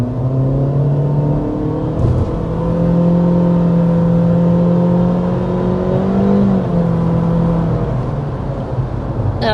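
A 2025 Acura ADX compact SUV accelerating from inside the cabin, a steady engine drone rising slowly in pitch with a brief shift around the middle, continuous and moderately loud with road noise under it.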